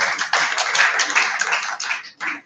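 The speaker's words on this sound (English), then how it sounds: "a round of applause for Prof." Audience applause for a professor at a technology and innovation expo, dense continuous clapping from a crowd that fades briefly near the end, then a short final burst.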